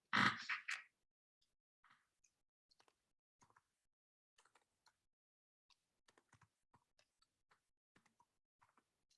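A brief louder clatter opens, followed by sparse, faint key clicks from a computer keyboard, tapped in small irregular clusters against near silence.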